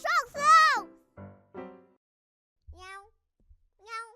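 A voice imitates a cat meowing in a kids' song about a laundromat: one long, bright meow first, then short clipped sounds and two more drawn-out meows separated by silence.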